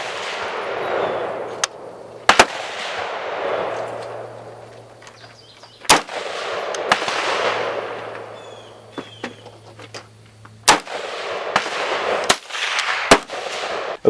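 Rifle shots from a .223 firing HPR 55 grain VMAX rounds at 50 yards, several sharp loud cracks at irregular intervals over rolling wind or outdoor rumble with a low hum.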